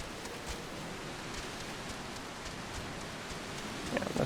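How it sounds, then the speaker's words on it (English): A rainstorm in the video game Final Fantasy XIV gives a steady, soft hiss of rain with scattered droplet patters, quiet and with no talking. "Yeah, this is quite the rainstorm."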